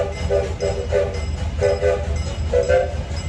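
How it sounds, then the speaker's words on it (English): A miniature railroad train at Billy Jones Wildcat Railroad, Los Gatos, California, chugs and clatters in a steady rhythm, with repeated short puffs and a faint whistle tone running under it. "I want to introduce you to the Billy Jones Wildcat Railroad"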